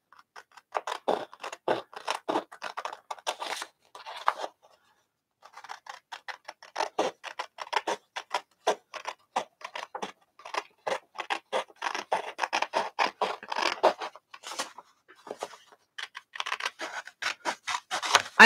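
Paper being cut with scissors for an art journal, close, crisp snips and scratchy slicing strokes in irregular bursts, with a short pause partway through.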